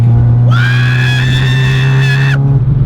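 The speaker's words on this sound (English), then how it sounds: "That was a car screaming, not me. That was the VTEC." A supercharged Honda Civic Type R engine's loud, steady high-pitched VTEC wail at high revs rises in for about two seconds over a constant low drone, then cuts off abruptly.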